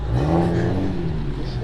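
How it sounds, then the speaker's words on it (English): A supercharged VW car engine revs steadily nearby, a continuous mid-pitched drone with a whirring edge, held for a moment with no voices over it. "Let's go listen to her supercharger."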